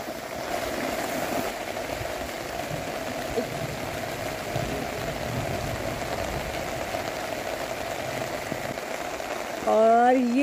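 Steady rain hisses continuously in the background among palm trees, with a voice starting to speak right at the end.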